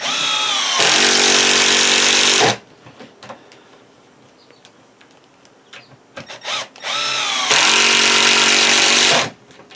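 A power drill drives screws into a wooden sawhorse, countersinking them about 3/4 inch below the top, in two loud, sustained whirring bursts separated by a quiet stretch with faint handling noises.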